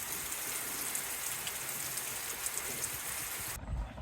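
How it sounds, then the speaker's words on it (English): Steady, heavy rain pours down in a dense, hissing wash that ends abruptly near the close, leaving a brief low rumble. "Wind gusts, sideways rain, standing water."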